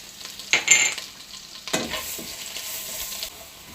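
Garlic goes into a hot pan for garlic butter squid and is stirred, with a few close clattering scrapes and a soft sizzle underneath, brief and moderately loud.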